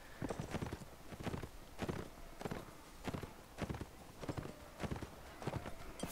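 Horses gallop across a battlefield in Mount & Blade: Warband during a charge of horse archers and cavalry. Rapid hoofbeats come in steady clusters at a moderate, fairly distant level, with the background din of battle underneath.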